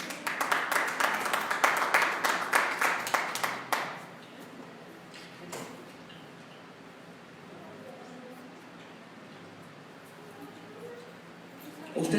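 A church congregation claps in a quick, steady rhythm for several seconds, fairly close, then the clapping stops abruptly and a quiet room with faint murmurs remains.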